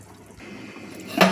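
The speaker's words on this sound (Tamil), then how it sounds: "தண்ணி 2 டம்ளர் ஊற்றிக்கிறேன்" Two tumblers of water go into a pan of tempered spices for pulicherry, a brief soft trickle that ends in a louder splashing gush.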